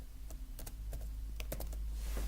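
Code being typed on a computer keyboard, close, quiet irregular key clicks in short bursts over a low steady hum.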